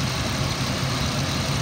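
A 2006 Ford Explorer engine idling smoothly after a long warm-up, a steady low rumble with even droning hum throughout, close and continuous with no voices.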